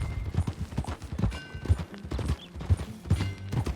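Horse hooves clopping at a steady riding pace in Red Dead Redemption 2, loud and close, with rhythmic thumps mixed with tack rattle and brief voices.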